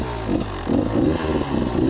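A motorcycle ploughs through a very deep puddle, its engine droning low and loud beneath surging, churning water in repeated rhythmic pulses.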